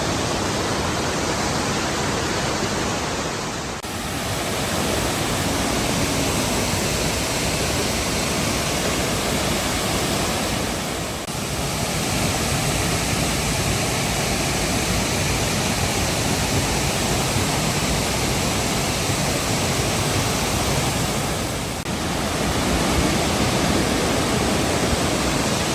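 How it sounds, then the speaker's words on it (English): McArthur-Burney Falls waterfall roars as a steady, dense broadband rush, close and loud, with no talking over it. "There's the waterfall right behind us."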